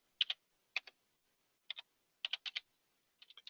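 Quick clicks come from a computer keyboard as an ID number is typed in short bursts of two or three keystrokes, sharp and close in a quiet room.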